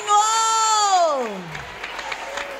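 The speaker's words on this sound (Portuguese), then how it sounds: "Quem crê assim pode sentar e louvar Jesus com palmas bem fortes." A church congregation at a fasting service claps loudly in praise, a dense, steady patter of applause rising after a drawn-out voice fades.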